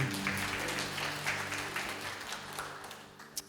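Congregation applauding during a Sunday church worship service, a steady broad wash of clapping sustained throughout with an organ or keyboard chord held underneath, tapering slightly toward the end.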